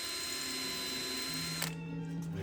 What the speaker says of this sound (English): We just gotta drill all these.